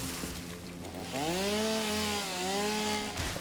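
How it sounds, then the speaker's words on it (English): A chainsaw revs and cuts through wood in the video game Satisfactory, a steady buzzing whine that rises in pitch partway through and holds near and fairly loud, with no talking. "It's nice when you get this chainsaw"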